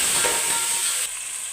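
Onion and tomato pieces with cumin and fenugreek hitting hot oil give a loud, close, continuous hissing sizzle that eases slightly near the end, with no talking.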